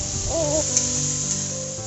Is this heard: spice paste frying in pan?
yes